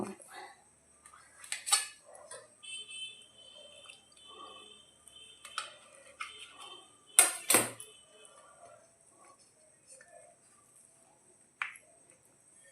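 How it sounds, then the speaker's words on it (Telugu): A knife cutting vegetables into pieces, heard as scattered sharp taps and clicks against a cutting surface with quiet gaps between strokes, close up, with faint kitchen clatter. "ఇవన్నీ ముక్క కట్ చేద్దాం చూద్దాం అలా"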